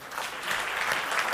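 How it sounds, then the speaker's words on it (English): Audience at a stage event honoring performers, a brief, steady patter of many hands clapping at moderate volume, with no talk over it. "A round of applause, guys."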